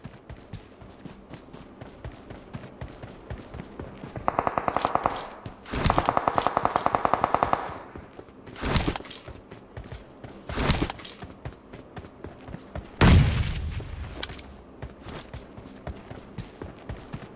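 Gunfire in a first-person shooter game, several bursts of rapid automatic fire and single loud shots spread across the stretch, with a heavy explosion-like thump near the end and some quiet talk between volleys.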